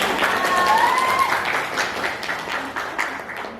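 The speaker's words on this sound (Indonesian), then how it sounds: "tepuk tangan untuk Novita" Applause fills a room at an accounting and finance teacher program session after a student's presentation, a steady crowd clapping that tapers slightly, with a brief voice at the start.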